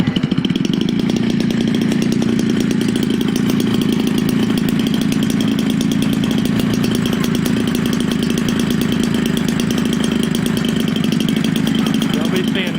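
A Homelite 30cc gas engine for RC airplanes, fitted with a big carburetor and a Master Air Screw Classic Series 18.8 propeller, runs loud and steady throughout with a continuous droning buzz and no break.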